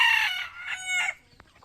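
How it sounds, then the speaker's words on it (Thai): A jungle fowl rooster crows close and loud in a single clear call that breaks off into a short trailing note, followed by quiet. "ไก่ป่าน้ำซ่องเห่าแล้ว"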